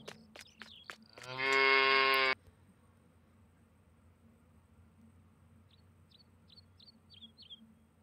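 Cattle and calves in Farming Simulator 19 give one loud, sustained moo lasting about a second, close by. Chirping birds are heard before it and again afterward over a quiet farm ambience.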